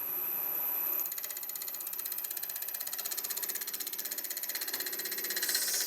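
A lathe gouge cuts a natural edge olive wood bowl, giving a fast, steady rhythmic ticking and chattering as the intermittent cut meets the uneven rim, close and continuous without talk.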